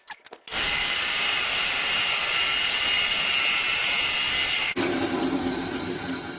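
A 3D printed pen blank is cut one-handed with a power tool, a steady, loud, continuous whir of blade on material that runs for about four seconds and then drops to a lower, slowing hum.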